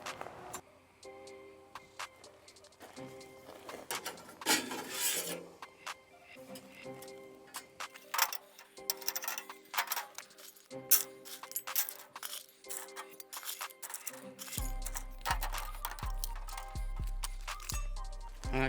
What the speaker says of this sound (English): So I'm going to put some pellets in there